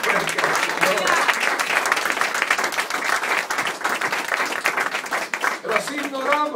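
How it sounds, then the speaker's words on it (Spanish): A church congregation gives loud, sustained applause throughout at a first-anniversary worship service, dense clapping mixed with cheers and voices from the crowd. "Y un aplauso fuerte al Señor."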